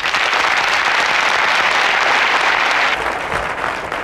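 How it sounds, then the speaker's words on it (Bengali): A studio audience at a Bangladeshi Eid-ul-Fitr television variety show bursts into loud, dense applause that fills the room steadily for about three seconds, then thins and begins to fade. "জোরে একটা হাত তালি।"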